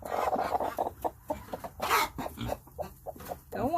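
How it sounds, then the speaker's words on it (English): A chicken at a nesting box clucks in short, uneven bursts, close by and fairly loud, with some rustling between the calls. "Got a chicken."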